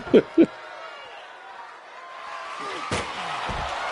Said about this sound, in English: banging the back of the head of Ederton into the steps